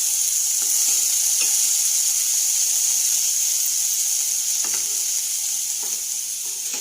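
Chopped ivy gourd cooking down in a hot pan for chutney, giving a steady, even sizzle with faint occasional stirring taps beneath it.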